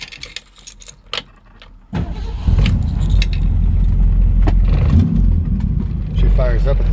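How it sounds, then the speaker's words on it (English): A 1963 Ford Galaxie 500 XL: keys jangle in the ignition, then after a couple of seconds the engine catches and settles into a loud, steady idle close by, with faint talk mixed in. "She fires up at the touch of a key"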